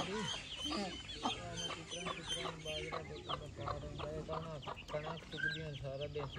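Chickens cluck repeatedly in short, busy bursts close by, several birds overlapping, with a voice talking briefly underneath.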